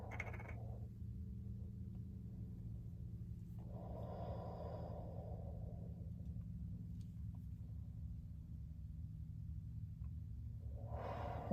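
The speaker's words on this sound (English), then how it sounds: "I'm breathing heavy in this thing" Slow, heavy breaths rasp through a respirator mask during epoxy ink work, in distinct in-and-out pulses over a low steady hum, close and muffled.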